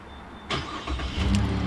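A Chevy Colorado engine starts remotely with no one inside: a crank burst is followed by the engine catching and settling into a steady, rising idle close by.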